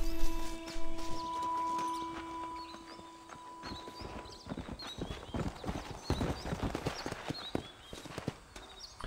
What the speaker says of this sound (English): One thing Red Dead 1 does better is calling your horse. That horse shows up.